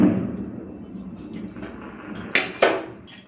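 Food is served onto a metal plate in a home kitchen with soft scraping and shuffling, then two sharp metallic clinks close together near the end, fairly close and moderate in loudness.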